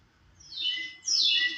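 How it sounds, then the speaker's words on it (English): A wild bird's chirps recorded outdoors on a camping trip: two bright, high, descending call phrases in quick succession, the second louder, heard alone against faint background. "this bird that I recorded"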